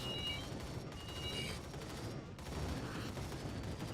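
An auto-targeting, omnidirectional weapon fires continuously in the video game Arcade Paradise, a dense rattle of rapid shots with no pause.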